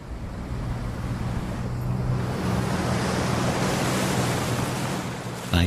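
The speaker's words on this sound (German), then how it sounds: "Das nächste Naturwunder ist der Salzstraumen, der stärkste Gezeitenstrom der Welt." Powerful rushing and churning water of the Saltstraumen tidal current and whirlpool in Norway, the world's strongest tidal current, a loud continuous roar that builds and holds steady throughout.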